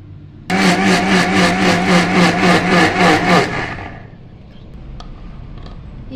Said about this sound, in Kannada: ಈಗ ನಾವು ಉದ್ದಿನ ಬೇಳೆಯನ್ನು 3 ಗಂಟೆ ನೆನೆಸಿದ ಉದ್ದಿನ ಬೇಳೆಯನ್ನು ಅರೆದುಕೊಳ್ಳೋಣ